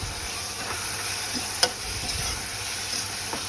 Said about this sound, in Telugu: కారం వేసుకొని బాగా మిక్స్ చేసుకోవాలండి.